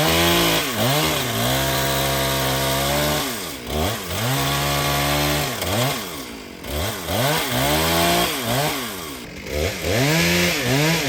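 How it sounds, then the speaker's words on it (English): A chainsaw cuts away a piece of a damaged bridge in Suriname, its engine revving loudly and steadily, dipping and surging repeatedly as the blade bites through. "they actually have to cut a piece of the bridge away"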